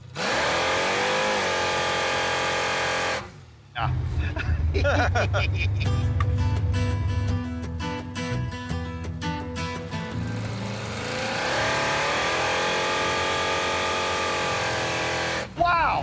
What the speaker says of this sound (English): Wonder if it does rolling burnout still. Are you in first gear now?